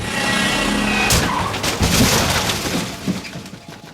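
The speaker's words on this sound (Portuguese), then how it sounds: "Quando, do nada, um acidente de carro." A car crashes on a quiet street and rolls over several times, with a burst of breaking, scraping impacts and debris clatter up close, then trailing rattles.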